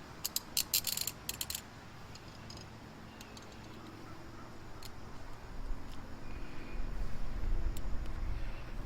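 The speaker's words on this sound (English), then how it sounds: "Ratcheting cable cutters." Ratcheting cable cutters click in a quick burst of sharp ticks near the start, followed by scattered faint clicks over a rising low rumble, in a car trunk being cleaned out.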